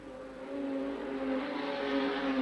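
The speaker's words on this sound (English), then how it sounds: "That Scott Peters engine sounds sick" A modified sedan race car engine running rough at the 1989 Victorian title meeting at Redline Raceway, heard as a steady, loud engine drone that holds for the whole stretch with no talk over it.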